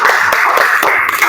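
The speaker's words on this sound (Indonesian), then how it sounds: "tepuk tangan untuk Tiara" Classroom applause from students during a teacher-training session lesson, a brief burst of many hands clapping close by, dense and steady for about a second.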